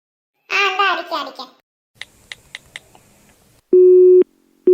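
A telephone busy signal sounds after a brief burst of someone talking and a few faint clicks. The repeated tone comes in loud, steady pulses near the end as the call fails to connect.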